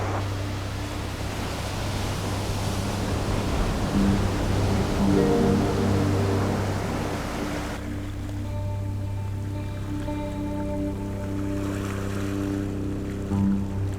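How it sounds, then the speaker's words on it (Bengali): Ocean surf roaring on a beach in South Goa in the early morning, a broad continuous wash of noise with a steady low hum running underneath; no one speaks. "তাহলে একটু সমুদ্রের গর্জন শুনুন"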